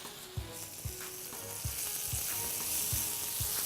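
Chana bhaji fries in a pan after tomato puree is added, producing a soft, steady sizzle punctuated by regular low thumps and scrapes of stirring about twice a second, fairly quiet and close.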